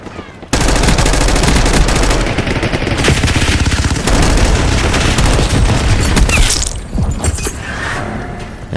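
Loud, close automatic gunfire fills a Call of Duty Black Ops 6 Warzone match, with dense rapid bursts and booming impacts running almost without pause. It eases briefly near the end, then resumes.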